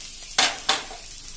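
Green peas and red carrots sautéing in a pan over low flame for rava upma give a soft background sizzle that is broken by three sharp stirring scrapes close by.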